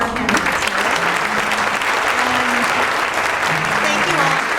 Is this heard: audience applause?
yes